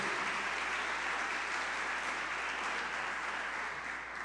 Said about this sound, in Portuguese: Aplauda o Senhor mais uma vez por tudo que Ele tem feito.